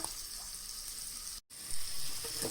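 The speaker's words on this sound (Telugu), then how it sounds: "అల్లం వెల్లుల్లి, అందులోనూ కొంచెం పసుపు. ఇలా వేగాక" Ginger, garlic and turmeric frying in a pan, a steady hiss of sizzling oil, fairly close and continuous, with a brief cut to silence midway before the sizzle resumes.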